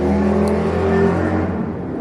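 A car passes close by on a street in the Netherlands, its engine whir loud at first and steadily fading as it moves away, heard alone without talk.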